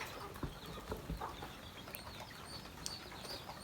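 Chickens and ducks kept on a rural farm in Laos, with quiet scattered clucks and short calls over a soft outdoor background, fairly distant and low in level.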